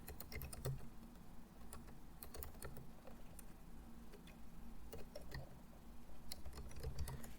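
Steady, soft keystrokes clatter on a computer keyboard, close and quiet, with short bursts of typing and brief pauses over a low background hum.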